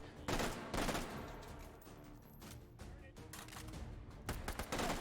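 Gunshots strike the player in a video game, loud sharp bursts repeating in quick clusters over steady game background noise.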